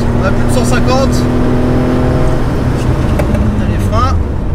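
A Porsche 911 SC accelerates hard through the gears on the Lohéac circuit. The engine drones steadily and rises in pitch, loud and close, under continuous talking.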